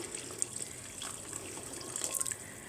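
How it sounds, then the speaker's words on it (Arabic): Hot water is poured into an opened pressure cooker during cooking of harira soup, a brief steady splashing trickle close by, fairly quiet, with no voices. "الان هنا فتحنا الكوكوط، غادي نضيف لها شويه ديال الماء سخون"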